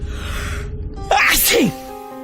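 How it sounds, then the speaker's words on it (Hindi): A single loud, explosive human sneeze, sharp and close, with a brief sharp intake before the burst and faint background noise, set in a dusty room. "उसे बड़ी जोर की छींक आई"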